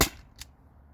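A single sharp crack from an Umarex HDP50 air pistol firing an 8.4 gram steel ball bearing, close and loud, followed by a fainter short impact click a moment later, with no talking.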